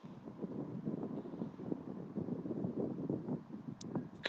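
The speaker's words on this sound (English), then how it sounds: "Could just do with this wind just dying off a little bit." Steady wind buffets the microphone across an outdoor FootGolf course, a continuous low rumbling roar with no speech.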